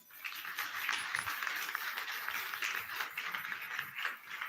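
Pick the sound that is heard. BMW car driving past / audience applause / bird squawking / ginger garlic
audience applause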